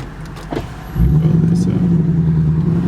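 A 2014 BMW 428i xDrive engine turns over and settles into a loud, steady low exhaust rumble that continues to the end.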